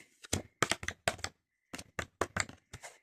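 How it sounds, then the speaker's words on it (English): Tarot cards are shuffled by hand in short, quiet bursts of smooth riffling and flicking, several separate runs with brief pauses between them. "they have a really nice smooth shuffle. They're not catching on each other."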